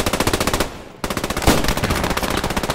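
Rapid automatic machine-gun bursts from the World War II shooter game Post Scriptum rattle loudly and close, a dense even rhythm of shots with a brief pause, no talking.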